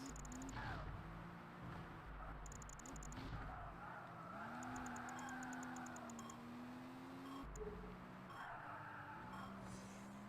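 Tires squeal and skid on a car in the Project Gotham Racing game on the original Xbox, a steady engine drone with rising and falling squeal tones running throughout, loud and continuous with no talk.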